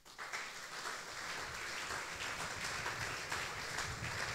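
Congregation clapping and applauding during a church worship service, a dense continuous wash of many hands filling the room at a steady level.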